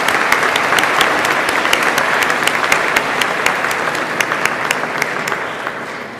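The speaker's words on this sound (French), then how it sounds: "applaudissons encore une fois nos finissants du programme informatique" A crowd applauds graduating computer science students at a technical school graduation ceremony, dense sustained clapping with sharp individual claps standing out, loud and close, gradually easing toward the end.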